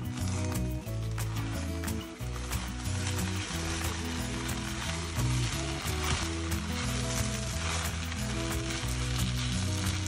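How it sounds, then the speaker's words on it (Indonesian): Butter rice sizzles steadily in a pot over low heat as it is stirred slowly, with a continuous frying crackle and faint scraping or clicking from the stirring. "kecilkan api dan kita gaulkan nasi kita dengan perlahan"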